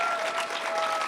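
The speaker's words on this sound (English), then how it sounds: "could you give me a show of appreciation for all these great staff people at Trent?" An audience at a university last lecture at Trent claps for the staff: dense, steady applause from many hands, loud and close throughout, with no talking.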